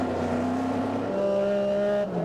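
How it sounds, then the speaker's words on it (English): Steady engine drone from inside the number 66 Porsche 911 race car at Sebring, driven by Kevin Buckler, with sustained harmonic tones that shift pitch as the revs change, loud and close throughout. "On board the number 66 Porsche 911. Kevin Buckler behind the wheel, running 21st overall."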